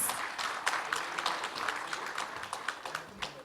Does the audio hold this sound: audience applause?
yes